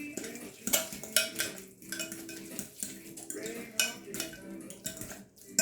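Cooked sweet potato is mashed in a bowl, giving repeated uneven clinks and scrapes of utensil against the dish, fairly quiet and close, with no speech.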